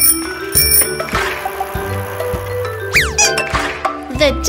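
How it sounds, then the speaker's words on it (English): A bicycle bell rings in a children's educational song, with several bright metallic dings and trills over a bouncy musical backing. "The bike!"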